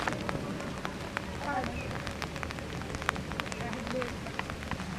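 Steady rain patters over a surface with scattered drop taps, a constant wash of noise throughout under a cloudy sky, and faint voices underneath.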